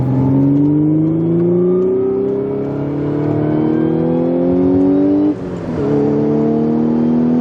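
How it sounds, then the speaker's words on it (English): An Audi B8.5 S5 with an AWE Touring exhaust, heard from inside the cabin with the windows up, drones loudly and climbs steadily in pitch under acceleration, then briefly dips at a gear change before rising again. "Okay, you can hear the engine now."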